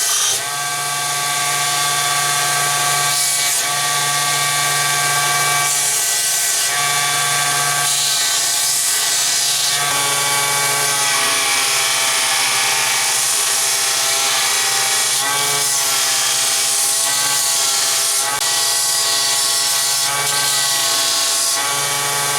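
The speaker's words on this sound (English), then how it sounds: "I'm going to take it over to my 1-inch belt sander, and I'm going to true everything up before I go to forging it" A 1-inch belt sander trues up a copper cutout, a steady close mechanical whir and hum with a sustained band of grinding rasp above it, rising and easing as the metal is pressed to the belt, with no talking.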